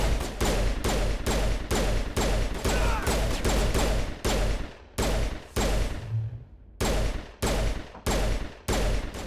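Loud, close bursts of gunfire against pirates in the Mass Effect video game, heavy shots repeating in regular volleys with one short gap midway and no talking.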